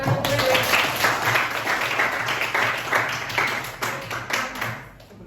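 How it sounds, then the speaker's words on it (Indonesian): Applause from a classroom group for a student named Rere at the close of a prayer, a steady, dense patter of many hands clapping that carries on for several seconds before tapering off. "Tepuk tangan untuk Rere."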